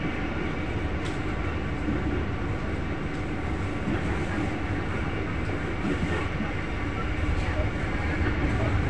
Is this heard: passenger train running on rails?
yes